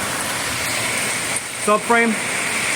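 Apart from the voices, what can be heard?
rain falling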